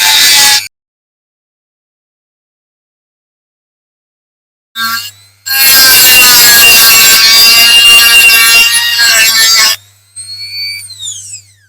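Filing or grinding away a rivet head on a die-cast Dinky Toys military ambulance, a short burst of rasping followed by a long, loud, steady scraping stretch and a lighter tail of scraping, close up with no talk.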